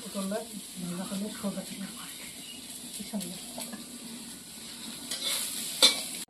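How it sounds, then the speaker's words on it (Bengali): Bay leaves sizzle in hot oil for a Bengali aloo-potol curry, a steady low crackle with some stirring and scraping. Faint talk runs underneath, and a louder clatter comes near the end. "তেল দিয়েছি এখন তেজপাতা দিয়ে তেলটা গরম হয়ে গেছে"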